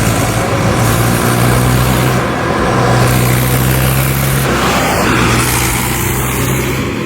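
An empty tractor with power steering runs steadily at close range, its low engine drone holding a constant level throughout with a faint hum layered on top, and no talk over it.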